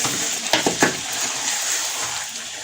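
A spoon stirs almond paste into chicken korma in a pot, with a few scraping strokes up close over a steady background sizzle.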